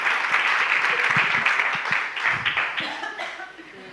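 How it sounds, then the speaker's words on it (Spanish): Audience applause breaks out at a church service, a steady wash of clapping that fills the clip and slowly tapers toward the end, with a little murmuring mixed in. "Damos un fuerte aplauso a estos valientes."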